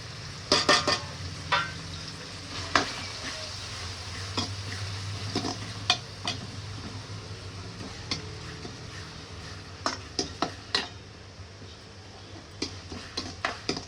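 Frying and stirring in a pan of spiced tempering with turmeric and salt for a potato dish: a steady low sizzle with sharp spatula taps and scrapes at uneven intervals, a few clustered near the start and later on.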